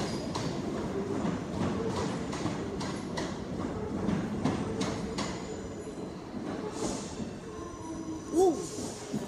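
British Rail class 455 electric train 455821 departs platform 11 at London Victoria for Epsom, rumbling steadily with rhythmic rail clatter and a rising electric whine, ending with a brief squeal.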